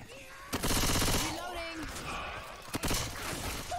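Rapid bursts of gunfire in the zombie shooter Left 4 Dead 2 crackle loudly at the start and again near the end, with someone shouting over the shots.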